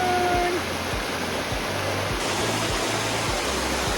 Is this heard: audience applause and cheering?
no